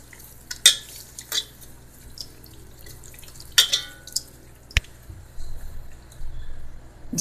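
A spoon works through curd marinade for chicken in a bowl, making scattered clinks and wet scraping taps against the dish, quiet between the strokes, with a softer stirring patch toward the end.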